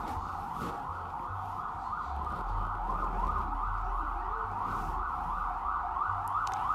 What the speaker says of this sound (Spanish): Si escuchan una sirena por ahí, mis amores, ustedes saben que esto es Nueva York.